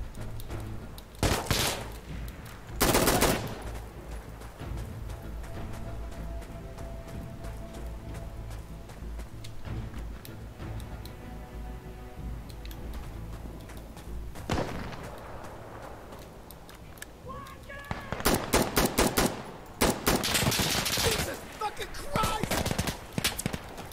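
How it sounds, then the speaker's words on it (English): Gunfire in Insurgency Sandstorm during a hardcore online match: loud, dense bursts of rifle fire early on, quieter scattered shots through the middle, then a heavy, sustained volley near the end. "I'm getting shot at, directly north."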